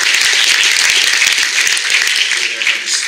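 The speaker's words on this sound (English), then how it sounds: "Can we give a round of applause for" Audience applause at a school fall awards night at the Academy of the Holy Cross, a dense, steady wash of many hands clapping for about three seconds, tapering slightly at the end.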